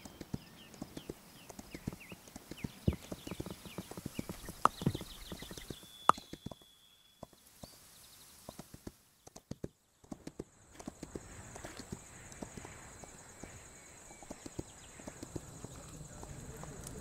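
Hooves of a horse in a Norse-lands video game clip-clopping in an irregular walking rhythm, with a whinny and game sound effects mixed in, a high electronic tone near the end, and a voice talking now and then.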